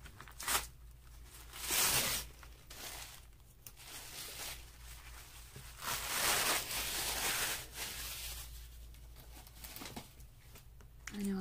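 Washi tape is handled, peeled and torn at a craft table while decorating journal pages, giving soft rustling and several short ripping swells, faint and close, with a person talking intermittently.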